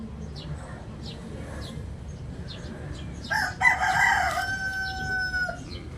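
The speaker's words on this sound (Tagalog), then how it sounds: "Makikisabay ang manok eh." A rooster crows once, loud and close, its drawn-out call rising over quiet background noise and a few faint chirps.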